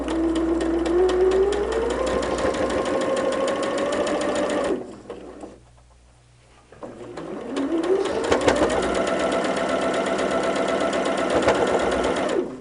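A sewing machine stitches a fabric seam on a quilt block in two loud, rapid runs that rise in speed, with a short near-silent pause between them.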